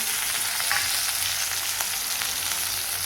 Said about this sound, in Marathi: मोहरी तडतडली आता टाकते मी हे हळद